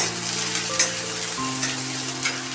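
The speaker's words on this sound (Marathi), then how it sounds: "इथे कांदासुद्धा परतून घेत आहे मी" Chopped onion sautés in a pan, giving a steady close sizzle with a faint stove hum underneath and no talking.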